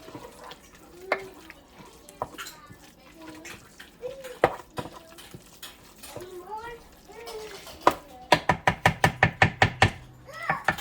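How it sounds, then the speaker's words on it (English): A spoon stirs cheesy chicken bacon ranch pasta in a crock pot, soft intermittent scraping and sticky clinks with a child and an adult talking nearby, ending in a quick run of about ten sharp knocks. "I'm just going to stir it up."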